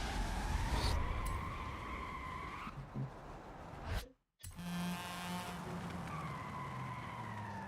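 A race car's tyres screech as the wheels lock under hard braking in a racing video game. Engine whine and a sustained skid build, then a sharp cut to silence before the engine drone resumes.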